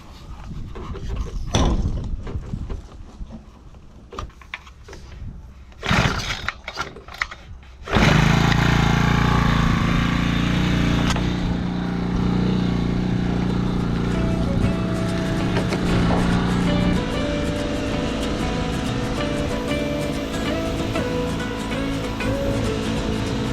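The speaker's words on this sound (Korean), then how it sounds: "그리고 오늘은 엔진 살포기로 살포할 겁니다" An engine-powered pesticide sprayer runs in a cabbage field. Sharp knocks and bursts come first, then the motor catches and holds a loud, steady drone with a buzzing whine for the rest of the clip.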